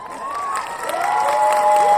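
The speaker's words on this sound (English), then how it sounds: "I think I deserve an applause" A short burst of crowd cheering and applause swells over two seconds, with bright whoops rising above the clapping as a sound effect.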